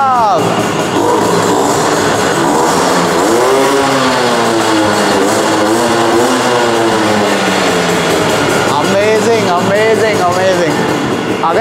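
A modified Yamaha RX 100 two-stroke motorcycle with a side kick starter and 4-speed gearing fires up and runs, its engine note rising and falling in loud revving sweeps throughout, with a voice talking over it.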